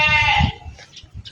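Goat bleating close and loud in an outdoor setting in Vigan City, Ilocos Sur, one long wavering bleat followed by quieter fainter calls and background noise.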